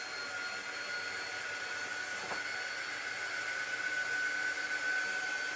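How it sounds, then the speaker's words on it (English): A small handheld air dry tool blowing to dry craft pieces, a steady close whooshing hiss with a faint whine, continuous and unchanging throughout. "I'm just using my little air dry tool just to speed it up, make sure these are completely dry"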